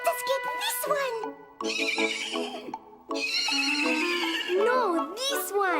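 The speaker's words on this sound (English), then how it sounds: "they went to the stables, where they found a horse that was gentle, strong, and sound" A horse in a stable neighs repeatedly, loud and close, with high drawn-out whinnies broken by short pauses and a few faint hoof steps.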